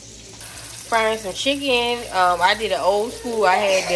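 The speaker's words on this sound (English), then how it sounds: "I'm frying some chicken" Chicken sizzles as it fries in a hot pan under a person talking close by, a steady crackle running beneath the voice.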